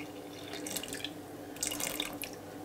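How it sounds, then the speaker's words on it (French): Cold tap water runs into bread dough in a home kitchen, a steady close splashing trickle lasting throughout without talk. "Et je fais le complément avec de l'eau froide."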